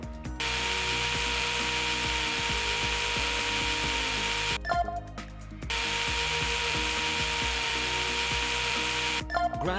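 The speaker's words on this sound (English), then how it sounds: "Now I can use the bone saw to resect the tibial plateau." In a virtual reality knee surgery simulation, a bone saw resects the tibial plateau with a loud, continuous, close-up buzzing rasp that stops briefly midway, restarts, and cuts out again near the end.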